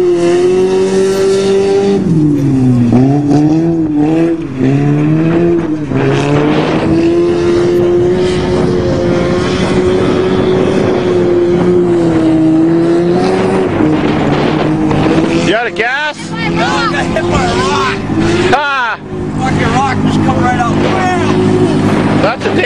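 Old Toyota and Nissan cars race and drift around an off-road farm track, engines droning loud and steady with rising and falling pitch through revs, continuous for the whole stretch with brief dips near the end.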